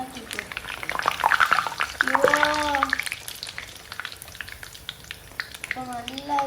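Banana fritters (pazhampori) frying in hot oil give a steady crackling sizzle throughout, with a person speaking over the cooking in the first half and again near the end.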